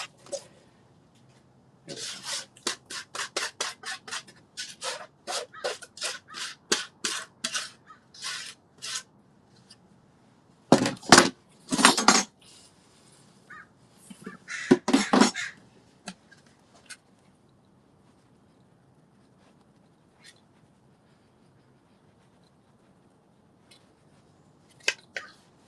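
Loose material is rolled around inside a concrete sculpture mold, making bursts of dry rasping and scraping. The bursts are separated by quiet pauses and cluster heavily midway, with no voices.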